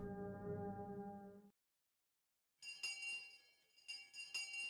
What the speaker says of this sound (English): I heard the ring of the bell declaring the end of lunch.